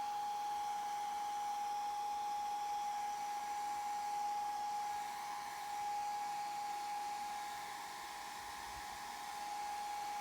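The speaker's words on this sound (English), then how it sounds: "my blow and air dryer." A blow dryer set to low heat runs steadily for the whole stretch, a constant whirring hum with a faint high whine and no pauses.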